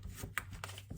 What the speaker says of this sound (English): Let me just shuffle 3 times.